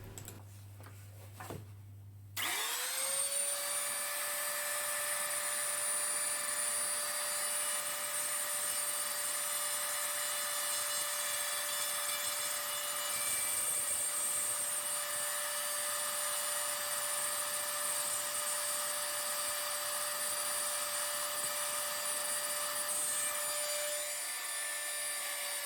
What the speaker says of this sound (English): with the router we're going to carefully straighten up that edge